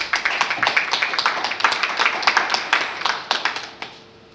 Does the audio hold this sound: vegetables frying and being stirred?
no